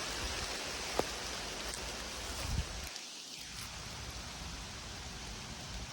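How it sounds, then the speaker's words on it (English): Hail pattering steadily on a tent pitched in a forest during wild camping, a dense hissing patter with a couple of sharper impacts, close and continuous with no voices. "Now it's hailing."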